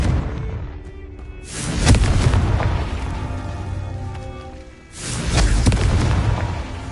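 Confringo explosion spell in a Harry Potter video game, two heavy booming blasts a few seconds apart, each with a deep rumbling tail that decays slowly, loud and alone without talk.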